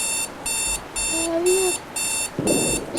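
An alarm clock rings in a horror survey video game with a repeating electronic beep in regular on-off bursts, loud and close, under a brief tonal game sound and a low thump near the end.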